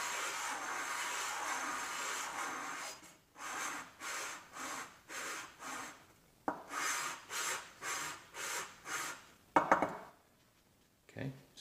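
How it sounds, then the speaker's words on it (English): Sandpaper rubs back and forth over an RC car muffler, starting as a steady scrub and then settling into about nine even, rhythmic strokes. A brief sharper scrape follows, then quiet, all close and fairly soft. "What we want to do is go to our next sandpaper and do that same exact process."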